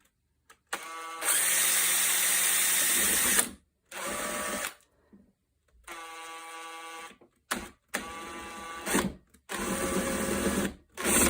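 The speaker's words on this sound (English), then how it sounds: "This is the final drill, so we've got to be a bit more cautious here." Bursts of a high-pitched power drill whining close up while drilling a CZ 550 rifle stock, several runs of a few seconds each separated by short pauses.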